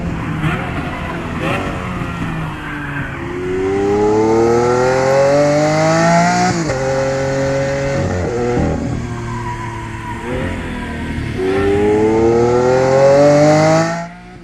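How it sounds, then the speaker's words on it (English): The naturally aspirated V12 of a Lamborghini Aventador SVJ revs loudly and close, rising through several gears with sharp shifts between climbs and a rough, howling exhaust note over about fourteen seconds, with no speech. "the melody generated from that naturally aspirated Italian V12"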